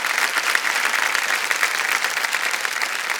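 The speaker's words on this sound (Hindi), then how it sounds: "एक बार जोरदार तालियां बज जाएं इनके लिए।" Studio audience applause on the KBC quiz show set, dense steady clapping from a large crowd, loud and sustained throughout without pause.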